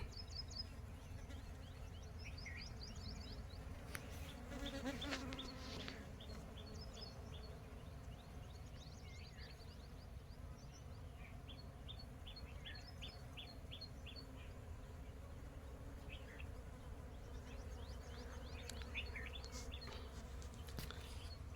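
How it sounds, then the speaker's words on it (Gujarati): Bees buzz steadily and softly across a fennel crop in an open field, a constant low hum with chirping birds scattered through it. "એટલી મધમાખી ઉડેશ ને"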